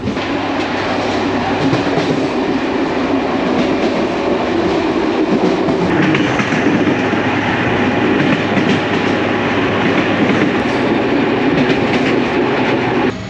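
A passenger train from Oran to Tlemcen, Algeria rumbles along the rails with a continuous roar and faint rhythmic clatter, heard from inside the carriage, steady throughout with no talking.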